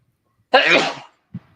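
A single sharp, breathy sneeze bursts out close up, followed by a brief faint sniff, with silence around it.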